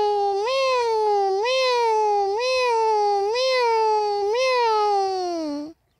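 A voice imitating a cat's meow as one long, loud, wavering wail with five rising lilts, up close, cutting off abruptly.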